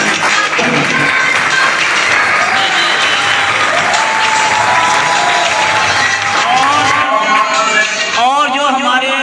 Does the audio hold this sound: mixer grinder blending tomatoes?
no